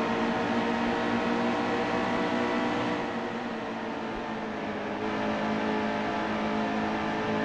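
A racing truck engine in the NASCAR Heat 2 video game drones at high, steady revs on Dover's one-mile track, with a brief dip in pitch before it climbs again, loud and constant.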